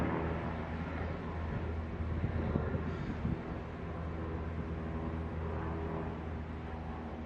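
An airplane passes overhead as a steady, broad, rumbling drone that holds at roughly even loudness throughout, with no talking.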